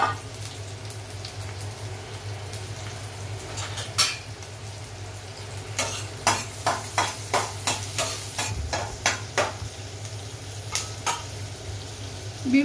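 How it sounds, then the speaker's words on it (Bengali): Onion and garlic fry in butter and refined oil while a steady low hum runs under a string of regular stirring scrapes and taps in a pan for a vegetable soup. "পেঁয়াজ রসুনটা একটু ভেজে নিচ্ছি"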